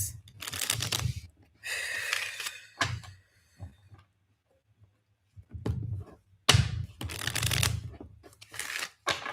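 Tarot cards are shuffled by hand in several crisp, riffling bursts separated by brief quiet pauses, close and fairly soft.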